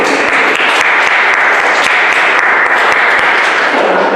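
A symposium audience applauds a panel, the dense, loud clapping continuous throughout and easing slightly near the end.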